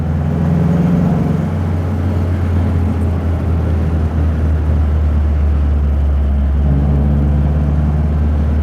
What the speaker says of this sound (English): I don't think the exhaust is entirely stock. It's got a glorious noise to it.